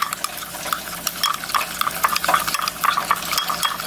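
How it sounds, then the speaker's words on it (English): Lemon pepper and melting butter stirred together in a pan, quick close metallic scraping and clinking of a utensil against the pan in an uneven rhythm, with a soft sizzle underneath and no talk. "we're just gonna get this stirred up and get lemon pepper and butter combined together"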